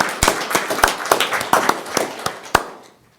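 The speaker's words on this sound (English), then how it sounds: "Should we give them all a round of applause?" Scattered applause from a small group at a county board meeting, sharp individual claps spaced irregularly rather than a dense wash, tapering off into quiet after a few seconds.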